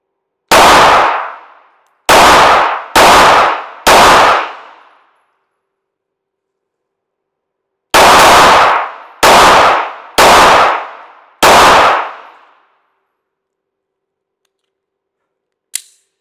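Handgun fired at a shooting target: eight sharp, loud gunshots, four in a quick group, then a pause, then four more at a similar pace, each with a short ringing decay, followed by a faint click.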